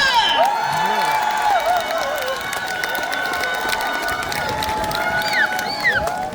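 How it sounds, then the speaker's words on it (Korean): A large outdoor festival crowd claps and cheers continuously for a live singing performance, with scattered whoops and children's shouts rising over steady applause. "여러분 박수와 함성 보내주세요!"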